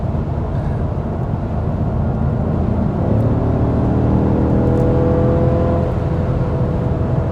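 A stock-exhaust 2020 BMW M550i accelerating on a highway, a steady loud engine and road roar that climbs in pitch partway through as the car pulls harder, with no talk over it.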